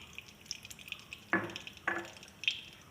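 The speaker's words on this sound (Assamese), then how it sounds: "তেল দিলোঁ এতিয়া মই তেলখিনি গৰম হৈছে" Oil heats in a kadai before okra goes in, giving a faint, low crackle with a few brief louder spits and pops in a quiet room.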